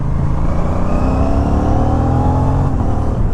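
An Aprilia RS 457 motorcycle with a GPR exhaust and its DB killer fitted rides at night, its engine droning loud and close as the revs climb steadily, with no voices.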